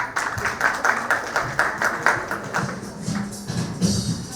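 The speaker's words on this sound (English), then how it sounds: "So please give a big round of applause for the students of KRM Ganalaya." An audience applauds for students after a dance performance, a dense run of rhythmic clapping that stays fairly loud and steady throughout, close and alone with no voices over it.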